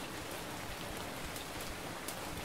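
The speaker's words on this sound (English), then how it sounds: "wish that rain would stop." Heavy rain in the survival video game Survival Fountain of Youth falls as a dense, steady hiss of drops with faint patters on surfaces, unbroken and with no voices.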